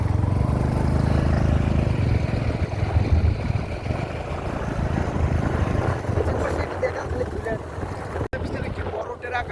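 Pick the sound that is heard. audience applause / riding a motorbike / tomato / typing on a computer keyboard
riding a motorbike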